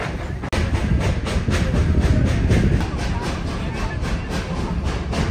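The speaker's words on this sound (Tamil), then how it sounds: "ஒரு அடர்ந்த காட்டுக்குள்ளே ஒரு ட்ரெயின் ஜேர்னி." The Georgetown Loop scenic railroad train runs through mountain forest with a steady loud rumble and rhythmic clatter, heard from on board and continuing throughout.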